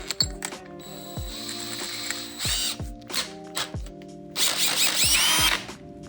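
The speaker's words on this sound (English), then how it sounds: "drill our hole" A power drill whirs in short bursts with pauses between, its motor rising and falling as it bores a hole into a T-joint, close up.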